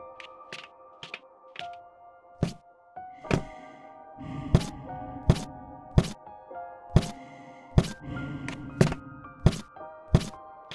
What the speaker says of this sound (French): Je reconnais, c'est le bruit de mes escaliers